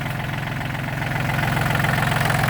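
A John Deere 36 hp tractor engine runs close by with its cover open, making a steady, dense rumble with a knocking pulse. The rumble swells slightly louder toward the end, and no one talks over it.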